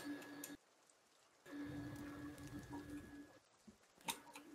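Rain falling in The Forest, a survival video game, a soft steady patter that drops out briefly and returns, with a faint tone running beneath and a sharper tap near the end.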